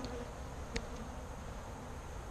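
Saskatraz honey bees hum steadily at an opened hive two weeks after a package install, a continuous close drone with one brief louder pass near the middle.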